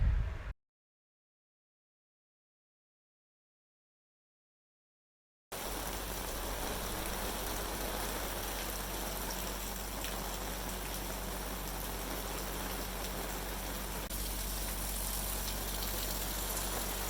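Steady, dense rain pours down at an excavation site where a driveway and shop pad are being built up, a broad even hiss that holds constant after a brief silent gap near the start.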